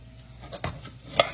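Food cooks in melted butter in a pan with a low, steady sizzle, punctuated by two sharp utensil scrapes or clinks close by.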